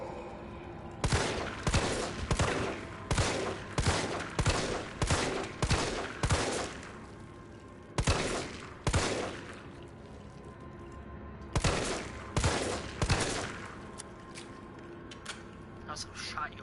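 Gunshots from the Resident Evil 3 demo video game ring out in rapid clusters of sharp, loud cracks, with several quick bursts early on, a pair of shots midway and another volley near the end.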